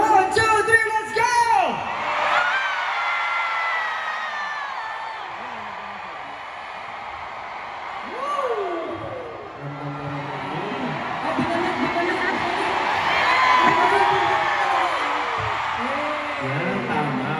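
A crowd at a 6th anniversary thanksgiving concert shouts and cheers in a steady, roaring wash of voices, with louder whoops rising and falling throughout and a voice calling out on top.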